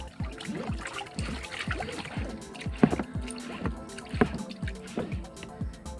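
A climbing rope is pulled and washed underwater, giving steady rhythmic sloshing, dripping and gurgling water sounds close by, repeating about every half second with a few sharper splashes.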